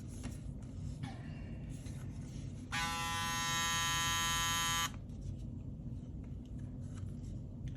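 Modified Gamma X Evo cordless hair clipper fitted with a GTX blade, switched on for about two seconds with a steady high-pitched electric buzz over a low background hum, then switched off.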